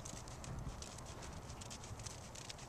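Horse hooves clip-clopping at a slow trot during a training-level dressage session, a steady rhythmic series of soft, fairly close hoofbeats with no talking over them.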